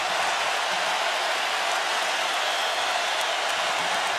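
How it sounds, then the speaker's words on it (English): Alabama Crimson Tide fans in a packed stadium at the 2019 college football national championship against Clemson raise a loud, steady, broadband roar that holds without a break for several seconds. "Tide crowd in this end making some noise."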